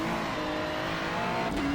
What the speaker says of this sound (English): First time I really hit one of those curbs